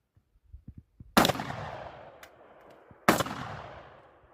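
Akkar Mammut shotgun firing 32 gram No. 5 shells: two loud, close blasts a couple of seconds apart, each with a decaying echo, preceded by faint handling clicks.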